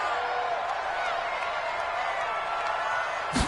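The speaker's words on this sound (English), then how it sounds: "this crowd loves it as their guys hold on the opening drive" Stadium crowd in a PS4 American football video game roars in a steady, dense cheer throughout, loud and continuous with a small swell at the very end.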